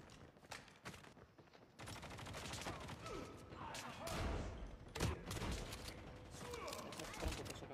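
Gunfire crackles in a Call of Duty match on the Alcatraz map, with rapid bursts and scattered shots layered over game effects, faint overall, while players talk over the action.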